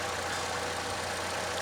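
A Chevrolet Equinox engine idles steadily with a low, even hum and faint mechanical drone, constant and close, with no talking over it.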